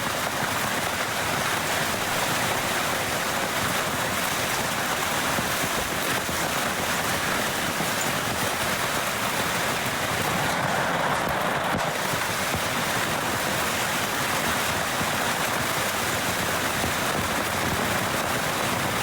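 A violent hailstorm with heavy rain and wind at a house roars as a dense, unbroken hiss and rumble that stays loud and steady throughout, with no talk.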